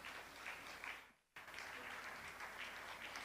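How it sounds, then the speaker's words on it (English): An audience at a school event applauds a student's academic award, a steady dense round of clapping at moderate distance that briefly drops out before resuming. "Please give a huge round of applause to Anya Dahuja for her remarkable performance in"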